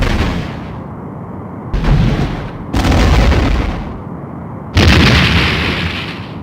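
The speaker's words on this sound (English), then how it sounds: "The Romulan warbird has been destroyed." A Romulan warbird blows apart in Star Trek: The Next Generation – A Final Unity, with a series of loud, close, booming explosions, each a sharp blast followed by a decaying rumble, the last one the biggest.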